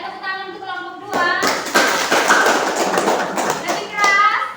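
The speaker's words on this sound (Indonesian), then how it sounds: "Ya, tepuk tangan untuk kelompok 2." Group clapping in a school classroom for the second group of students, a dense run of overlapping claps beginning abruptly after a moment of talk and continuing close and steady, with children's voices mixed in underneath.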